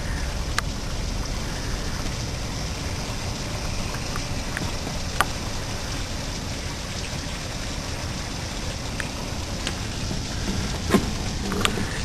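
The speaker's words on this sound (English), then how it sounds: "look at that rain come down" Heavy rain from Tropical Storm Fay pours down outside an apartment complex in Bellevue, a steady dense hiss with occasional sharper drips and splashes.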